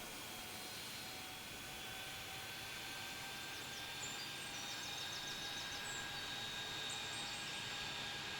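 Jet airliner taxiing toward runway 23 right in a Tower Sim 3 airport tower simulation at Raleigh-Durham, a steady quiet engine whine and hum that holds level throughout with no talking.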